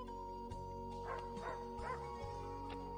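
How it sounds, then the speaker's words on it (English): Dogs bark and yip in a short burst of four or five quick woofs in the video game Fantasian, set over a steady musical background. "Oh, dogs."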